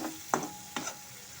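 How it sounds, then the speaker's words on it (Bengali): Ground spices stirred and fried with a little water over medium heat for a vegetarian mustard flower curry: two brief scraping stirs of a spoon in the pan over a faint, steady sizzle, close and quiet. "এটা দিয়ে ভালো মতো করে কষে নেব।"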